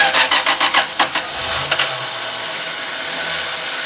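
A rebuilt Chrysler Slant Six engine cranks over in a quick run of rhythmic starter pulses, then catches and settles into a steady, close rumbling idle.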